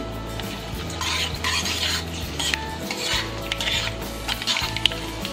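Whole garam masala sizzles loudly in a hot pan over a high flame, with steady frying hiss and repeated scraping strokes of a spoon stirring the spices, close and continuous, metal clinks now and then.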